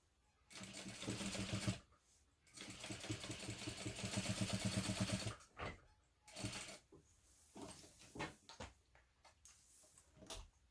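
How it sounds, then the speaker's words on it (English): Sewing machine top stitching the side panel and seam allowance of a hobo bag, heard in two sustained close runs of rapid mechanical chatter, followed by shorter bursts and clicks as the fabric is adjusted. "And then we'll top stitch the other side, again just through the side panel and seam allowance, not through the front panels"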